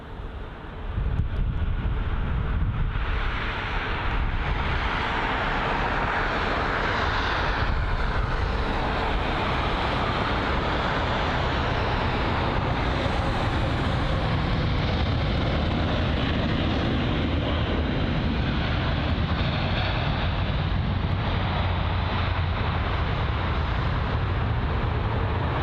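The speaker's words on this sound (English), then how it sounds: "Got an A350 inbound." An Airbus A350 airliner inbound to London Heathrow produces a constant, fairly quiet jet roar mixed with wind rumble, lasting throughout with no talking.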